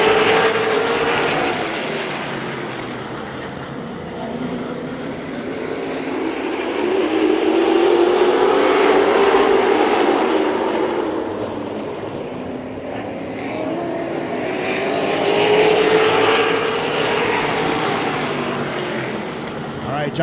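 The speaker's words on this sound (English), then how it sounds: "Big 8 late models here at Tomah-Sparta Speedway. Randy Sargent in the pole position" Big 8 late model race cars at Tomah-Sparta Speedway, a loud pack of engines roaring past and then fading in repeated waves as they lap, with an announcer talking over them.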